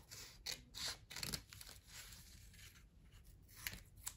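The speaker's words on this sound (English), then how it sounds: "I'm just going to carefully just trim those" Scissors snip along paper envelope flaps for a no-sew junk journal, giving several short, close crisp cuts in bursts with brief pauses, no talking.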